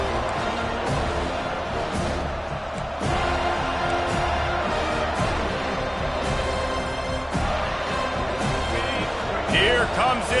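A home crowd roaring at a football game in a video game, a steady dense wall of cheering and noise throughout, with bumps and thuds mixed in and talk running over it.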